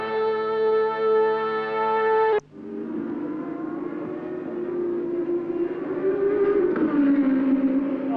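Formula 1 race cars from the 1983 San Marino Grand Prix roar past: a loud, high, tonal engine whine cuts off abruptly and gives way to another rasping engine drone that swells and rises in pitch, with no voices.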